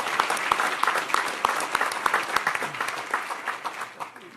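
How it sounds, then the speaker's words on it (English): Audience applause during a citizens forum presentation at an Irving City Council meeting: dense, steady clapping from a roomful of people that holds throughout and tapers slightly toward the end. "Again, just another round of applause."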